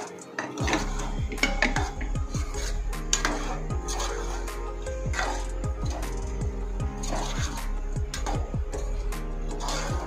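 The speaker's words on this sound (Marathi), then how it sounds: "आता आपण हे छोले ह्याच्यामध्ये टाकून घेऊ आणि हे चांगलं मिक्स करून घेऊया." Chickpeas are mixed in a metal cooking pot, with a steady run of loud, close clinks and scrapes of a spoon against the pot throughout and no talking.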